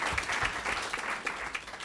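A live audience at a business startup pitch event applauds in a dense, steady burst of clapping that fills the room briefly.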